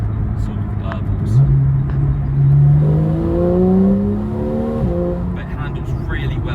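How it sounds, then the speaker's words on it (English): A 2015 Porsche 911 Carrera 4 GTS PDK coupe with the X51 power pack revs its 3.8-litre flat-six and lets off, its engine tone rising and falling with a few faint exhaust cracks and burbles on the overrun. "You do get quite a few cracks and burbles on the overrun when you sort of rev and then let off the accelerator."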